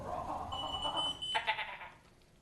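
A human voice imitates a goat's bleat during a public meeting, a short wavering nasal call followed by a brief higher cry, close and moderately loud before fading out.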